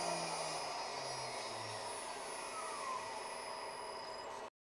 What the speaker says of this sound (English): We'll send an M5 command to turn the spindle off and let it spin down.